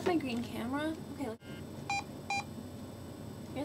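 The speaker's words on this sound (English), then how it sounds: "hear that beeping?" Two short electronic beeps ring out a moment apart, clear and high-pitched, with a voice talking earlier and a steady background hum throughout.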